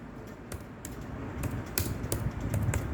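Someone types on a computer keyboard while setting up a quiz in Google Forms. The sparse keystrokes click and tap close by at uneven intervals over a low, steady background hiss.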